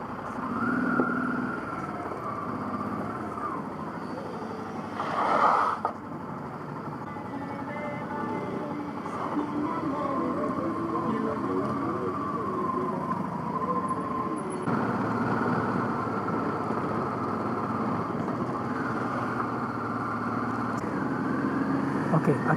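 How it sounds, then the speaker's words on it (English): Cars labouring up a rugged hill in Yaoundé, Cameroon: a steady low engine drone of passing vehicles at moderate distance, with a brief louder burst near the middle and continuous street ambience. "cars are finding it difficult to climb up"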